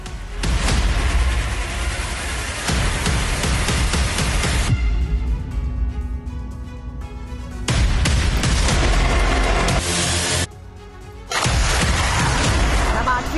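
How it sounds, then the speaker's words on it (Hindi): Russian BM-21 Grad multiple rocket launcher firing a barrage, a dense continuous roar of launches in long loud bursts with brief drops between salvos. "रूस ने MLRS की बारूदी बौछार से यूक्रेनी सैनिकों को दिया जवाब।"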